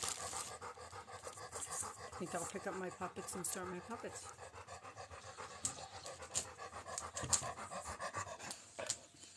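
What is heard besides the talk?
dog panting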